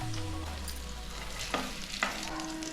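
Godavari-style masala fish pieces sizzling in hot oil in a pan, a steady close frying hiss with a couple of sharp clinks from turning the pieces, and no voices.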